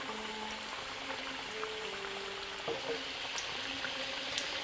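Samosas fry in a pan of hot oil, giving a steady, soft sizzle and bubbling that continues throughout with small crackles and no talking.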